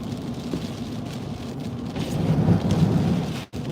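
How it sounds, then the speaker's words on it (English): Heavy rain from Hurricane Helene in Tampa Bay pours steadily with a dense roar, swelling louder partway through as wind-driven gusts and low thunder rumble beneath, with no voices. "It's still raining and windy out here."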